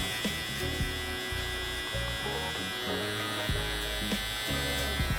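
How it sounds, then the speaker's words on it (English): An electric hair trimmer buzzes steadily and close, its pitch and load shifting in short bursts as it cuts the first guideline into a mid taper fade with the lever open. "we're gonna go ahead and punch in our first guideline with our trimmer."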